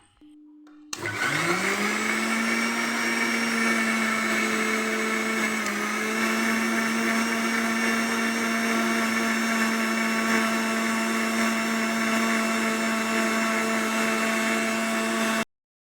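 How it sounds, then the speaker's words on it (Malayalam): A mixer grinder blending eggs with sugar starts up after a brief hum and whirs loudly and steadily at high speed, a constant motor whine with no one talking. "നമുക്കതൊന്ന് മിക്സിയിലടിക്കാം."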